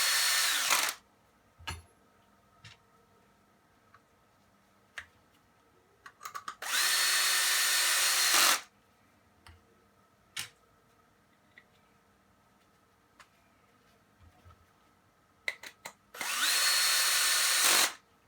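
A power drill drives screws into a chain tensioning spool for a Maslow CNC, three separate bursts of high whirring a couple of seconds each, close and loud, separated by quiet gaps with small clicks of handling.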